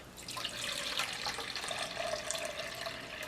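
Coconut water pours into a blender jar for a diuretic drink as a steady trickling, splashing stream with a faint rising tone as the level fills. It sounds close and quiet, with no talk.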